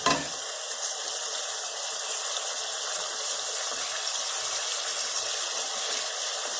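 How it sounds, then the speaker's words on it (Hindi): Steady, loud hissing sizzle of chicken frying in hot ghee, constant throughout with no talking. "चिकन को मैं अच्छी तरह घी में भून रही हूँ।"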